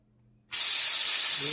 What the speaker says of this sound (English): Hear that sizzle going. So we're going to get the bacon going.